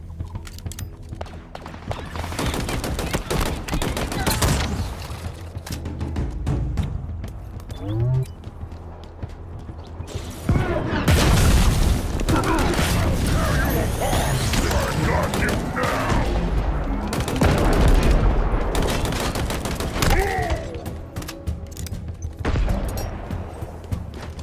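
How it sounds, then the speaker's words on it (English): Commando Rifle gunfire in Halo Infinite, bursts of rapid shots and booming impacts with mechanical clatter, loud clusters separated by quieter gaps. "When Master Chief uses the Commando Rifle."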